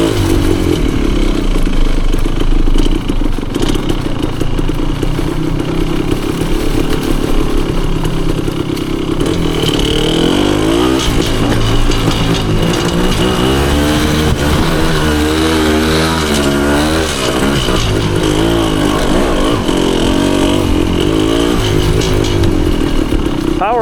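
A 1974 Honda MT250 two-stroke enduro motorcycle ridden through woods, its engine a steady loud drone that rises and falls with throttle, close to the microphone throughout.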